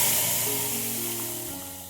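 A hot pot sizzles loudly and hisses for a moment as asafoetida and turmeric tempering meets boiled dal, the frying noise fading steadily over under two seconds.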